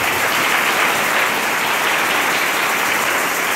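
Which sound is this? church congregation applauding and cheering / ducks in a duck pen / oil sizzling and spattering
church congregation applauding and cheering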